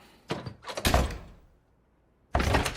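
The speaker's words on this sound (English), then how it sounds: "One morning, he opens the door." Door in a small 4.5 tatami room being opened, heard as a few close wooden knocks and a thudding slide, then a short silence before another burst of door noise.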